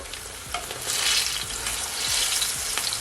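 Plantain slices frying in hot oil in a pan as they are flipped over, a loud dense sizzle with soft scraping turns mixed in, close and continuous.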